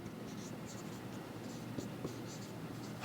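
Pencil or pen writing on a piece of paper, a steady close scratching texture with a few short stroke accents, continuing alone without talk.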